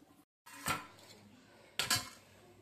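Rice is served onto a plate at home, with two distinct clattering bursts of dishes and utensils knocking together over a quiet kitchen background.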